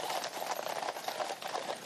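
Horses' hooves clip-clop steadily up a hill on the approach to Windsor Castle during a royal state procession, a dense, continuous clatter of many hoofbeats with no voices over it.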